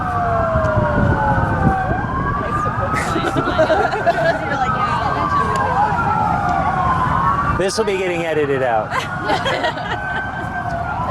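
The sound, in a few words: emergency vehicle sirens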